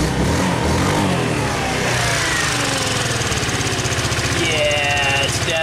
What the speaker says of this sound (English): Let me give it a little bit of gas so I can show you what I'm talking about under speed.